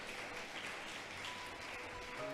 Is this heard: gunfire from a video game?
no